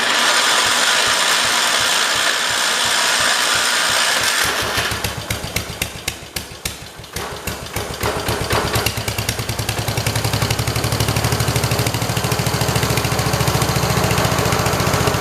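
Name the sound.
Kohler engine running on swapped 1968 112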